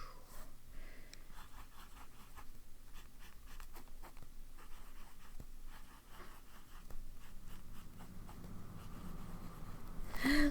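TWSBI Eco T Rosso fountain pen with a broad nib writing on paper, soft close scratchy strokes in a steady rhythm over a low hiss, faint throughout.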